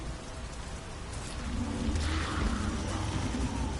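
Rain falls steadily in a PS4 video game, a soft, dense patter that swells slightly louder partway through, with a faint low rumble underneath.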